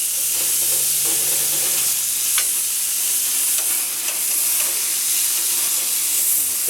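Basting sauce sizzling on Greek souvlaki meat skewers over a grill, a continuous loud hiss and crackle with occasional sharper pops, close and steady.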